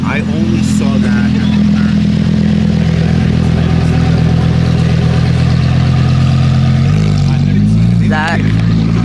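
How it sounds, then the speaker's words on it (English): A McLaren Elva hypercar engine rumbles loud and close at a rally with a deep steady growl that swells toward the end, while people talk excitedly over it. "A McLaren Elva, that's a hypercar."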